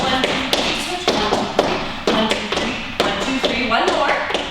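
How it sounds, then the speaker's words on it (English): Feet stomp out the horse step of Metis jigging, a quick repeated triplet of taps and thuds like a galloping horse, fairly close and loud, with fiddle-like music and a voice faintly underneath. "there's a series of stomping steps that sound exactly like a horse galloping"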